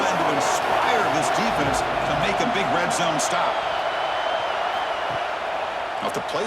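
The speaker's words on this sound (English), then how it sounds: "This crowd is trying to inspire this defense to make a big red zone stop" Loud, steady roar of a video-game stadium crowd at a college football playoff game, Miami at Ohio State, swelling behind a red zone defensive stand, with brief sharp cheers and thuds over the constant wash of noise.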